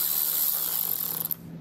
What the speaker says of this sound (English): inside of there will be our screw that's holding it in, so you want to use a T25 Torx bit to take it out.